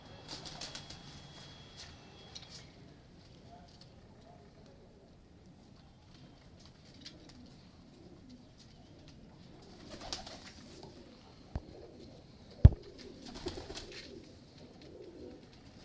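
Faint, low cooing from a fancier's Mistri Deen-line pigeons drifts through a quiet stretch, broken by a few sharp clicks and a brief flutter near the end.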